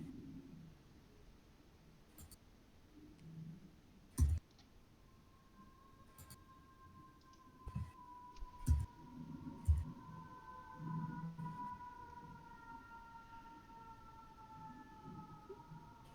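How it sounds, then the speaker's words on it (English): Whale sound effects played during a tabletop Dungeons & Dragons session: long, eerie tonal moans and sliding calls drift over a faint hiss, broken by a few sharp knocks and thumps. "Whales or something."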